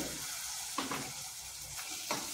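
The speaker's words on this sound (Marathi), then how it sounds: "तर हा परतून घ्यायचा व्यवस्थित।" Potato pieces sautéing in a pan for a Malvani-style prawn and potato curry, giving a soft continuous sizzle with a couple of brief stirring scrapes, fairly quiet and close.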